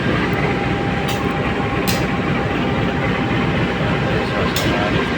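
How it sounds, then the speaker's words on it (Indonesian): KA Majapahit passenger train pulling into Tegal station, a steady loud rumble of rolling wheels and rail noise throughout, with faint brief clicks in the background. "Kereta Majapahit sudah sampai di stasiun Tegal."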